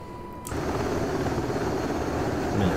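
A UH-60L helicopter in the DCS World flight simulator makes a steady, droning rotor and engine roar. The sound starts abruptly after a quiet moment and holds a constant loud level without speech.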